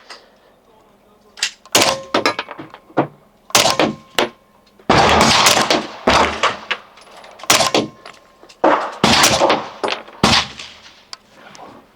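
A 9mm firearm fitted with a Banish 46 suppressor fires a series of sharp, muffled cracks. The shots come in irregular clusters, some close together, and a voice is heard between them.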